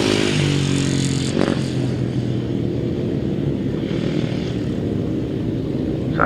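Grasstrack racing motorcycles, including a two-valve Jawa, roar continuously with a high, buzzing engine note that stays loud throughout, as if passing nearby on the track.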